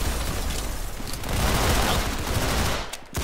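Sustained automatic gunfire in the Roblox shooter Arsenal on an aircraft map, a dense continuous burst of rapid shots at steady loudness that cuts off briefly near the end before resuming.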